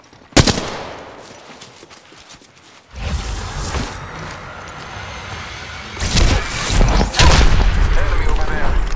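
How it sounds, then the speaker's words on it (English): Gunfire in the Apex Legends video game: bursts of rapid automatic shots cut in sharply, with loud dense volleys near the end amid a constant game background. "Shots fired at me."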